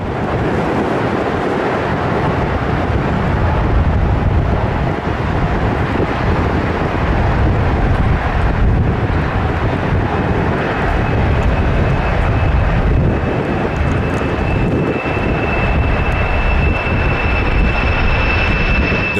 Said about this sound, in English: This Boeing 747 destroying the terrain next to the runway while taking off.